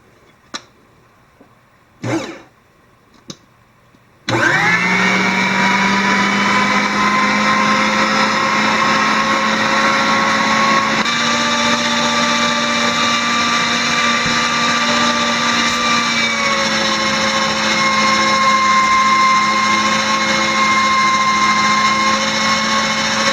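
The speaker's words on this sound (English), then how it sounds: "we've got it all through the grinder" Meat grinder grinding venison for snack sticks, starting abruptly with a loud, steady motor whine after a few handling knocks, then running continuously with slight shifts in pitch under load.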